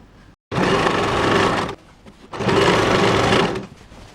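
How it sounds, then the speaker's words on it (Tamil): Two steady bursts of a sewing machine stitching a cross-cut inskirt seam, close and even, each running over a second with a short pause between, loud and mechanical with no voices. "அது மாதிரி நிறுத்தி பொறுமையாக அடிங்க, தையல் வெளியே தெரியக்கூடாது."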